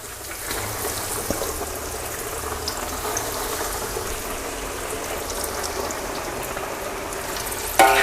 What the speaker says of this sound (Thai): แล้วนำเนื้อปลามาทอดต่อเลยครับ